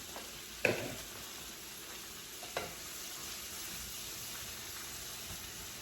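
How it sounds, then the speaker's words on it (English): Onions frying in a pan give a soft, steady sizzle, with a couple of sharp clatters of utensil or pan near the start. "So let's put the onions on in here."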